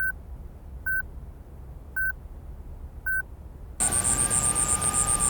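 A telephone being dialed: four evenly spaced beeping tones sound one after another alone, followed by a louder steady ringing tone.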